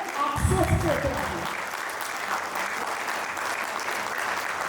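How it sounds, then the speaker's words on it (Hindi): An audience applauds in honour of a soldier at an anniversary function, the clapping swelling in right after a voice and carrying on steadily and fairly loud to the end. "मैं सम्मान देखना चाहता हूँ कि उस फौजी के सम्मान में आप कैसी तालियां बजाते हैं।"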